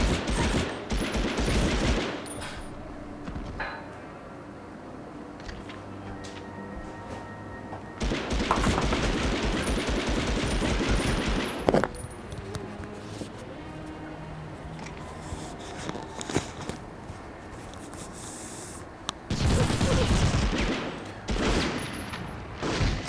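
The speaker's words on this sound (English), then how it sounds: "Shooting people down the railing" Bursts of gunfire in the WWII shooter Medal of Honor Underground: rapid machine-gun fusillades and single shots come in loud clusters separated by quieter stretches, with a few thumps among them.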